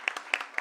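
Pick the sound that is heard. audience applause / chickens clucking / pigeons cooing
audience applause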